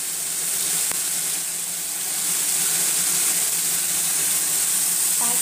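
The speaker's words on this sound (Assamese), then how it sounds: "বিলাহীখিনি যেতিয়া কোমল হ'ব তেতিয়া কাটি লোৱা ফুলকবিখিনি দি দিব আৰু একেলগতে অলপ পিছত আলুখিনিও দি দিব।" Cauliflower and potatoes frying with softened tomato in a pan for a fish curry, a steady bright sizzle running the whole time, with a faint utensil tap early and a light clink near the end.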